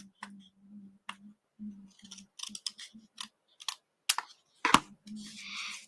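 Paper being trimmed with a paper cutter during card making, with a series of soft scraping and clicking strokes, some sharper snaps, and a faint steady hum beneath, close and fairly quiet.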